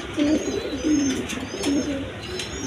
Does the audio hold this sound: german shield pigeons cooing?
yes